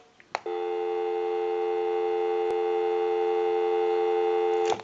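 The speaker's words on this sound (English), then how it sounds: "We'll call my number and it'll be busy." A telephone busy signal plays as one continuous steady tone. It stays fairly loud from start to finish, with a couple of clicks at the start and the end.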